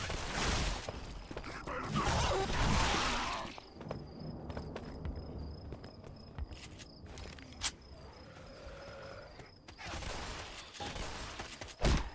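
Gunfire in the Left 4 Dead 2 VR game, loud dense bursts at the start and again near the end, with scattered single shots and quieter ambient insect-like chirping between.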